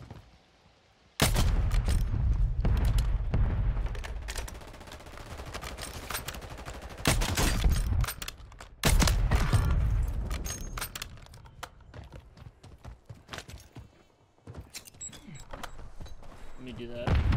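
Kar98k rifle fire in the Warzone video game rings out in heavy, booming bursts amid other game gunfire and clatter, with a person talking over much of it.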